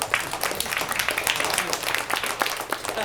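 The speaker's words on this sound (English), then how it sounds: "Let's give a pause for applause for all our hard work." A class applauds at a school presentation with dense, fairly quiet clapping from many hands that continues steadily throughout.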